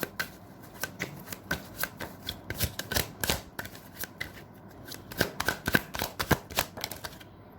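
Tarot cards are shuffled close by in a rapid run of crisp riffles and snaps. The flutters repeat steadily throughout with only brief pauses.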